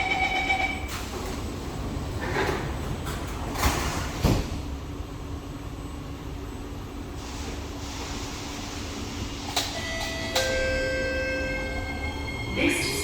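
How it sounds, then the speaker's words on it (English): Metro train doors closing at a station on a line approaching Marina South Pier, with a steady rumble of the carriage, chime-like tones and door thumps in an enclosed space. "Doors are closing."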